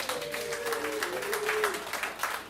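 Audience applause and clapping spread across a crowd, with a voice talking over it throughout.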